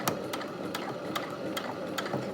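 A sewing machine runs in quick, regular stitching bursts while sewing a bound buttonhole, close and fairly quiet, with faint ticking clicks between stitches.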